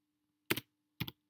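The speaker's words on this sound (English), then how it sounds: "let's just type in field" Two crisp keystrokes on a computer keyboard, close and isolated, about half a second apart in an otherwise quiet room.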